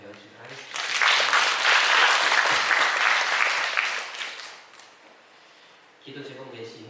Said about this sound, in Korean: 우리 수고한 우리 모든 분들 위해서 이를 통해 역사하신 하나님께 감사의 박수 올려주도록 하겠습니다